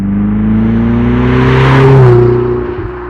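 2018 Ferrari 488 Spider 70th Anniversary accelerating, its engine drone rising steadily in pitch, heard from inside the car, then easing off near the end.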